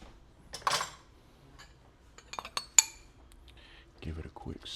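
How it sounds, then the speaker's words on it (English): Stirring lentil soup in a pot, heard as a few light spoon clinks and taps against the pot, quiet and close, with a voice talking briefly in the background. "give it a quick stir."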